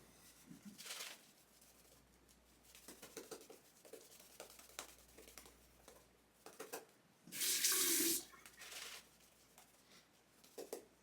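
A bathroom tap runs briefly to rinse a Wolfman WR2 safety razor during a shave, splashing and trickling softly with one louder, steady burst of flowing water near the end.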